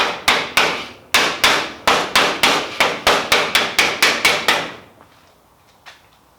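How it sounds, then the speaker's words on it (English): A copper hammer taps gently on wood about fifteen times in a steady rhythm, each blow sharp and close, then the tapping stops and only a faint knock follows. "I've got a copper hammer, so I only want to be very gentle with this"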